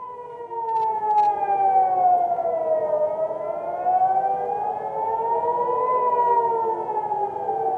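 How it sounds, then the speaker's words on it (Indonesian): Air raid sirens wail over Tel Aviv during an Iranian missile attack, a loud, steady rising-and-falling tone that sweeps slowly up and down in continuous cycles with no talk. "sirene di kota Tel Aviv kembali berbunyi saat sistem pertahanan udara Israel berupaya mencegat rudal-rudal yang ditembakkan Iran"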